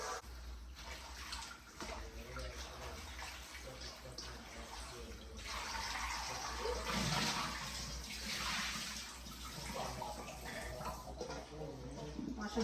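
Tap water runs steadily while bunches of culantro (recao) are washed under it for sofrito, a continuous broad rush with some splashing surges, moderately close.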